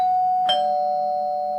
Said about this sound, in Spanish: Perdón, suena el timbre, no sé dónde estaba.